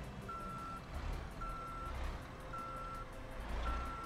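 A Renault Range T truck in Euro Truck Simulator 2 sounds its reversing alarm, four steady evenly spaced beeps over a low engine rumble while backing up to a trailer.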